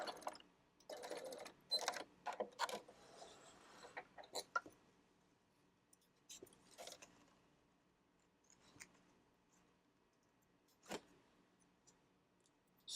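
Sewing machine stitching and back stitching a canvas tote bag, short bursts of needle clatter separated by pauses, close but quiet, with no voices.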